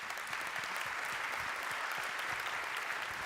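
A conference audience applauds in a dense, even burst of many hands clapping at once, sustained at a constant level from start to finish with no voices standing out.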